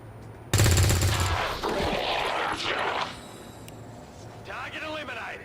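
A soldier's rifle in XCOM 2 fires a sudden loud burst of rapid shots, then the sound fades into lingering echoes and rumble, followed by quieter game effects.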